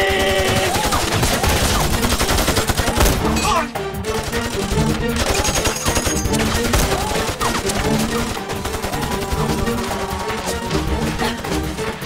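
Heavy gunfire in a Chinese war film about a fight against Japanese troops, continuous loud volleys and rattling rifle and machine gun shots throughout, with brief shouting under the barrage.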